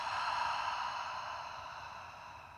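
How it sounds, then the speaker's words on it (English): A long, slow exhale through the mouth during a prenatal yoga breathing exercise, a soft breathy hiss heard close and quiet that gradually fades. "Big exhale through the mouth."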